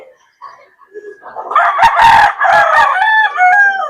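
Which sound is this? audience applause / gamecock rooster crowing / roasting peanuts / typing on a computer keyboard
gamecock rooster crowing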